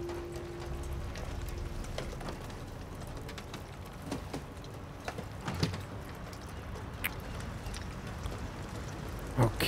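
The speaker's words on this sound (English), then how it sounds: "We got a crossover from heavy rain" Steady rain falls in the video game Detroit: Become Human, a continuous dense patter on surfaces with scattered louder drops and small knocks throughout, close and even in level.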